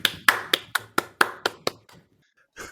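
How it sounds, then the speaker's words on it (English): One person claps about eight times in a quick, even rhythm during a trading livestream. The claps are close and sharp, then they stop, and a short voice sound follows after a pause. "I need an applause on here."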